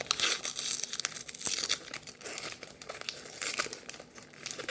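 A book heavily wrapped in tape is torn open by hand. Loud, close crinkling and ripping of paper and tape comes in quick, uneven bursts, with no voices.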